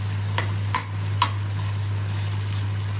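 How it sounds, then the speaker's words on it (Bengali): Hilsa fish frying in a pan with cooked taro leaves gives a low sizzle, with a few sharp clicks of stirring against the pan over a steady low hum. "এখানে আমি ইলিশ মাছটা দিয়ে দিয়েছি এখন আর একটু ভাজা ভাজা করে"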